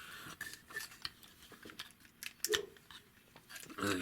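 A plastic Transformers figure, the Toyworld Hegemon, is transformed by hand, giving scattered small clicks, taps and scrapes of plastic parts being extended and flipped, close and fairly quiet.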